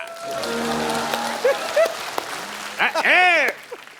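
A TV comedy show studio audience claps in a dense patter while someone speaks over it, and bursts of laughter and vocal sounds rise near the end.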